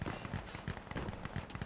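Mortar explosions in the video game Insurgency Sandstorm: a rapid cluster of sharp, popping blasts in quick succession, fairly faint and distant.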